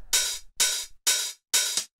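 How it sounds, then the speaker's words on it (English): Open hi-hat sample for techno, four sizzling hits that ring out briefly before choking off, evenly spaced, loud and close with nothing else in the mix. "and then this open hi-hat"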